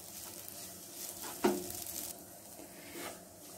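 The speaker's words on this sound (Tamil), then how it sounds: "ஒரு 2 மினிட்ஸ் அப்படியே பிரட்டி விடலாம்." Egg masala is being stir-fried in a pan for egg Maggi noodles: a close, continuous sizzle with a sharp spatula scrape and a few soft stirring knocks.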